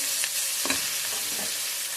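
Spice masala roasts in a pan for an egg biryani, heard as a steady close sizzle with soft stirring scrapes over a continuous hiss, and no one speaks.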